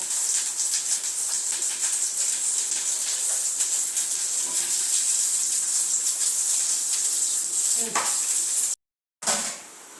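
Onions sautéing in oil in a pan for fish curry, a steady close bright hiss and sizzle throughout, cut off by a brief silent gap near the end.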